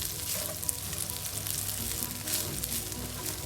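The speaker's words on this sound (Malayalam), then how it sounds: "നല്ലോണം മിക്സ് ചെയ്തെടുക്കാം." Rice for chicken shawarma rice is tossed and mixed in a hot pan with butter and oregano, a dense continuous sizzle with light stirring scrapes, close and steady with no talk.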